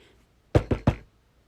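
Three quick, firm knocks land on a board close by, evenly spaced within about half a second, against near silence.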